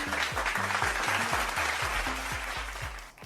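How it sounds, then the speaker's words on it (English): Audience applause at a CEO forum in Sri Lanka, a room full of clapping hands at steady volume, with a repeating low tonal musical pattern running underneath. "give our sponsors a round of applause"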